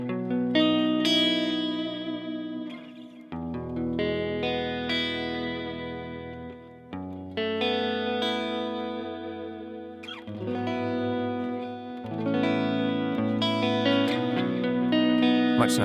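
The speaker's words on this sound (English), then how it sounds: "dial back that delay, dial back that reverb, and let's give it another whirl" An electric guitar through an iPad amp and effects preset with reverb and delay turned down, playing sustained chords and single notes with a mildly distorted, fairly dry tone, no talk over it.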